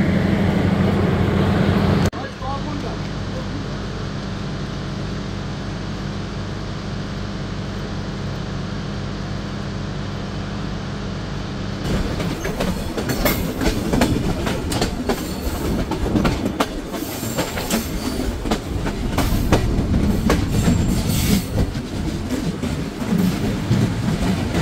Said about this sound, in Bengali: ট্রেনটি প্রবেশ করলো তার 3 নম্বর যাত্রাবিরতি স্টেশন মোবারকগঞ্জ রেলওয়ে স্টেশন